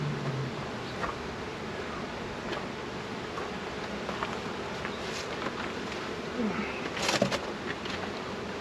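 A mass of honeybees from a dropped full hive box drones in a dense, steady buzz that fills the air outdoors, with faint ticks and clicks scattered through it.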